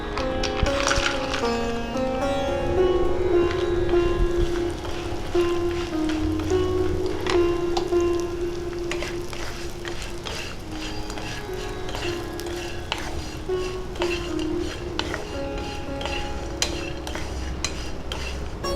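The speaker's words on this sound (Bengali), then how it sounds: "হালকা হালকা করে বড়িটা ভেজে নেব" Bori, small dried lentil dumplings, frying in mustard oil in a pan over low heat while being stirred: a continuous sizzle with scattered light scrapes and clinks of a utensil, steady and close throughout.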